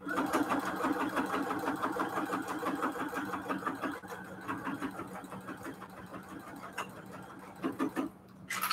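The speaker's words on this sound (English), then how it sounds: "So I'm going to straight stitching over here." Sewing machine straight stitching a mat, a close, fast, even mechanical chatter of the needle that runs steadily, slows near the end with a few clicks, and stops briefly.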